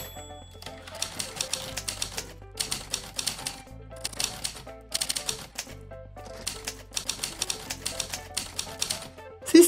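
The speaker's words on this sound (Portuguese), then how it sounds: "ele vai fazer um barulho de máquina de escrever" Rapid typewriter keystrokes from a PC note-taking app's typing sound effect, clacking in bursts with short pauses between, crisp and close, accompanied by a steady low hum underneath.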